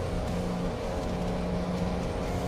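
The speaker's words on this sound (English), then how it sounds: "these trucks are extremely loud" A heavy hauling truck's engine drones steadily from inside the cab while driving, a loud continuous low rumble with a steady tone and no speech.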